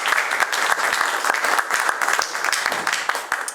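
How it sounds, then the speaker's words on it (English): An audience at an international literature festival panel applauds the guests, producing steady, dense clapping from a crowd throughout. "please applaud for our guest today"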